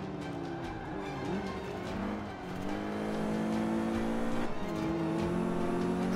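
A BMW M5 racing in the video game Forza 5 sounds like a loud, sustained engine drone whose pitch climbs and dips through gear shifts. The revs rise again with a brief drop partway through, and the engine stays close and dominant throughout.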